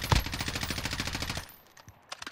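Automatic gunfire in Call of Duty Warzone (Cold War) during a quads match, a rapid rattling burst of about a second and a half, followed by a few faint scattered shots.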